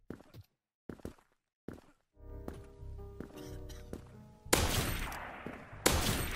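Gunfire in Krunker.io on the Newtown map, a shot fired through a wall: sparse early pops, then a rattling stretch of rapid shots with two loud, close bursts near the end.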